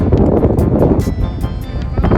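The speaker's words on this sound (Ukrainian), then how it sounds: "Вітер дуже сильний, тому можливо і не чутно." Strong mountain wind in the Italian Dolomites buffets the microphone in a loud, continuous low roar with gusty surges throughout.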